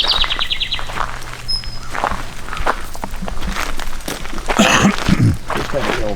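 Brief chirping bird calls in a comedic Jurassic Park parody scene, heard intermittently over a busy background with footstep-like noises, with people speaking.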